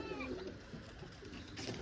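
Pigeons coo softly at a home loft of newly bought birds while others fly around, a faint low cooing amid quiet outdoor background noise.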